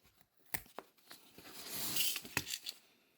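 A zipper end is snipped off with scissors in a few sharp, close cuts, and a rustling, tearing burst of fabric and plastic comes between them.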